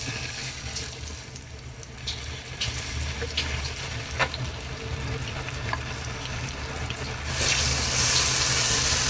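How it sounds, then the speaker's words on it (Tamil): Marinated chicken fries in a pan of oil, giving a steady broadband sizzle at close range. Faint clicks and stirring taps are scattered through it, and the hiss swells louder near the end. No one talks. "இப்போ நம்ம ஊற வச்ச சிக்கனை அதில் போட்டு ஃப்ரை பண்ணி எடுத்துக்கலாங்க."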